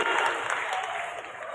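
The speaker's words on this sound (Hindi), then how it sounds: "जोरदार ताली बजाओ" A stadium crowd at a political rally claps loudly, dense and sustained applause that stays strong and steady before tapering slightly.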